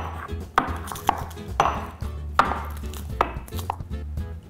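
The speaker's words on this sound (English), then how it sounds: "Using a pestle and mortar, grind 2 cloves of garlic into a paste." Garlic cloves ground into a paste with a pestle and mortar, giving a run of sharp knocks and crunching grinds at an uneven rhythm, close and fairly loud, with no talking.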